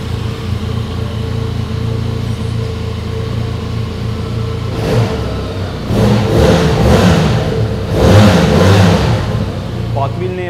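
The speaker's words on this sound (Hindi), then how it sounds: "जब जैसे ही बनाली की बाइक्स जो हैं ये 4000 RPM क्रॉस करती है, इनका साउंड जो है वो ट्रीट फॉर द ईयर्स हो जाता है" A Benelli Leoncino 500 motorcycle engine idles steadily, then revs up loudly twice in strong bursts past 4000 RPM, close by with a deep bassy tone.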